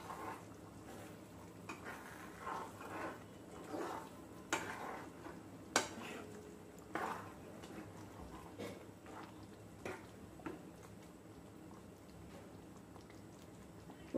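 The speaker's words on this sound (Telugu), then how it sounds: "ఇప్పుడు ఒకసారి కలుపుదాం చిన్నగా వీటిని." Egg malai curry is stirred gently in a pan: soft, intermittent scrapes and light clinks of a spoon against the pan, quiet and close, with a faint sizzle underneath.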